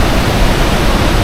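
Iguazu Falls thunders with a dense, steady roar of heavy water, about four million litres per second, heard up close, loud and unbroken.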